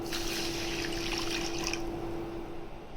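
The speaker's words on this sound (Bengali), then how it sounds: "পানি দিয়ে দেবো" Water is poured into sugar syrup in a short, close trickle that fades out after about two seconds, leaving a faint steady background.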